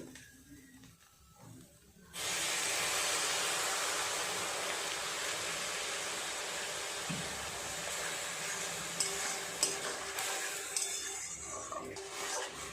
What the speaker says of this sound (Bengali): এবার এইভাবে অনবরত নাড়তে থাকবো।